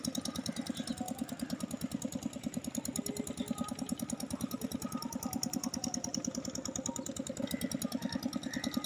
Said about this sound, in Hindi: पानी वाला जनरेटर हमने चला दिया